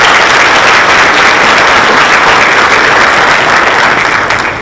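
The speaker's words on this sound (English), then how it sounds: "Give them a round of applause." An audience at a county economic breakfast forum applauds its sponsors, with loud, dense clapping that fills the room and stays steady, easing slightly at the very end.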